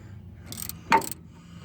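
A wrench on the top shock bolt of a Box Chevy truck gives a few short metallic ratcheting clicks, one sharper clack near the middle, close and fairly quiet.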